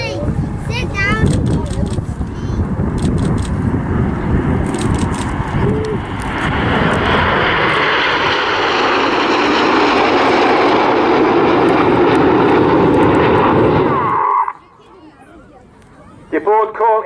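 Red Arrows display jets roaring past at the Southport Airshow, a loud sustained sweep that swells and then cuts off abruptly, with a commentator talking over the sound.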